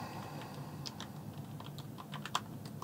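Quick bursts of typing on an Alienware AW510K low-profile RGB gaming keyboard, crisp clicking keystrokes in irregular runs with a sharper tap near the end, close up and otherwise quiet.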